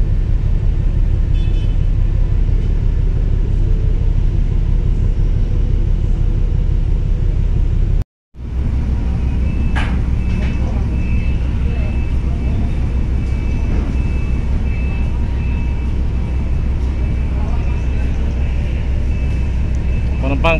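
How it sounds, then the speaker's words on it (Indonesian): Heavy vehicles, mainly trucks and buses, roll steadily through the Bakauheni ferry port, giving a continuous loud engine and road rumble. A brief dropout comes partway through, then a horn-like toot over the ongoing traffic drone. "Mendominasi kendaraan truk dan bus masih mengalir ya."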